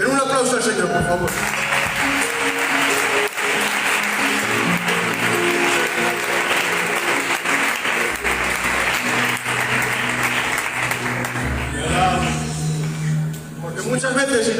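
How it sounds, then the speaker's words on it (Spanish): A church congregation applauds the Lord during a sermon, sustained loud clapping and cheering running for many seconds over a musical backing, fading near the end. "Den un aplauso al Señor, por favor."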